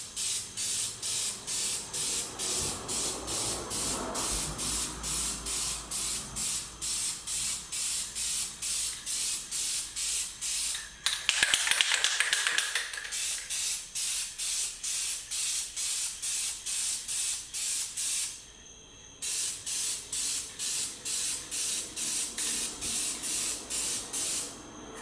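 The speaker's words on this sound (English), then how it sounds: "we'll go ahead and start spraying" Dupli-Color CustomWrap aerosol spray paint hissing onto a truck in a long series of short, rhythmic bursts, close up, with a brief louder continuous spray midway and a short pause near the end.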